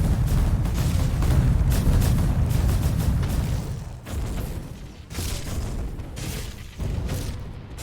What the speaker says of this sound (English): you might as well just throw in some explosions